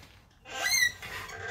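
The never-used starter rope of a Honda GX390 engine squeaks as it is pulled, giving a short, faint high-pitched squeal that rises and fades over roughly a second.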